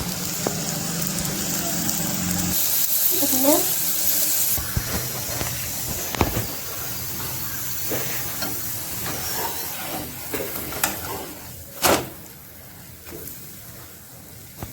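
An egg-stuffed chapati cooks on an oiled pan, with a soft continuous sizzle and hiss, punctuated by scattered clicks and utensil taps against the pan.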